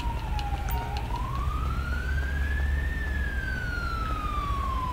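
An ambulance siren in the video game GTA V wails in one long sweep, rising and then slowly falling, over a low rumble of road traffic, with no talking.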